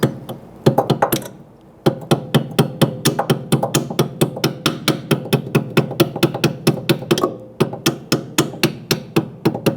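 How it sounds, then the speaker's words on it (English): A hammer repeatedly taps the locking clip onto a new rear brake hose on a 2006-2011 Honda Civic, sharp metallic knocks coming close and loud in a quick, steady rhythm after a couple of opening strikes. "Tap it with a hammer if needed."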